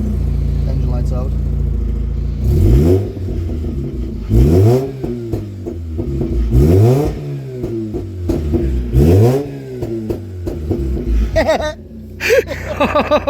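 Mazda RX-8 rotary engine revving hard several times in succession, each blip rising sharply then dropping back to idle, loud and close, with a person speaking between revs.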